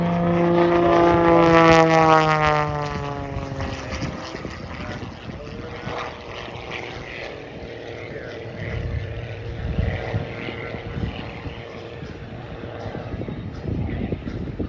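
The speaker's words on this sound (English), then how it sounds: "now, ladies and gentlemen, eyes on Bill's airplane." A propeller plane at an airshow drones loudly nearby, its engine pitch sliding downward as it passes, then fading into a steady distant hum with outdoor noise.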